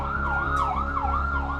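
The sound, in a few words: siren of the Hatzalah private ambulance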